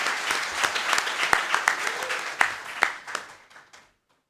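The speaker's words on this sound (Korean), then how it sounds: "큰 박수로 맞으시기 바랍니다." Audience applause at a policy seminar held at the National Assembly, moderate clapping with a few sharp distinct claps standing out, gradually thinning and fading out to silence near the end.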